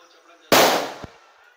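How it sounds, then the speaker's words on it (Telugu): A handmade firecracker bursts with a sudden, very loud bang that trails off into a rumbling decay, followed by a smaller sharp pop half a second later. "చాలా గట్టి పేలుతున్నాయి గైస్ ఇది"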